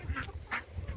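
A young domestic goose honks in a short burst of two or three nasal calls, close by and fairly faint, with no talking.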